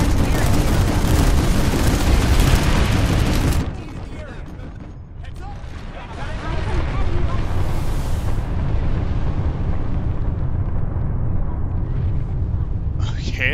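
Bombs falling and blasting in the video game Planetside 2, a loud dense barrage of explosions and gunfire for the first few seconds, then continuing rumbling battle noise with a voice talking over it.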